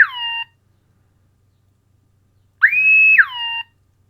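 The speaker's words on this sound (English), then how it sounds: "you can also have an alarm for when your vehicle's tipping sideways." A Flysky NB4 radio transmitter sounds its GPS tip alarm: electronic beep tones, first a short burst, then after a pause a longer falling-and-rising chirp sequence. The beeps are loud and close, alone in silence.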